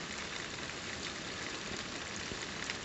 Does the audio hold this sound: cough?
no